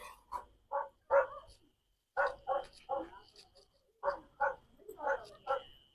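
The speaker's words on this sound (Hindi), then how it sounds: "यहाँ पे वो जो है ना भौंक रहे हैं" Several dogs bark in a village home in Pakistan, with short loud barks in bursts and brief pauses between them, close by and rather clear.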